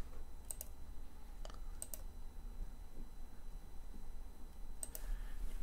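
Commands typed on a computer keyboard into a Virtual Color Computer emulator: sparse, crisp key clicks in small clusters over a quiet, steady room hum.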